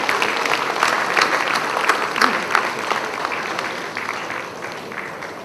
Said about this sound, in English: A big round of applause for Mr.